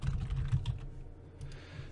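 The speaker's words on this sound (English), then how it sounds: "Click anywhere and then start typing." Steady, quick typing on a computer keyboard, close and moderately quiet, continuing without pause with no talking.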